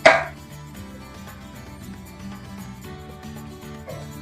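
A knife cuts through a mango on a board, a sharp opening chop followed by quieter, irregular cutting taps under faint background tones.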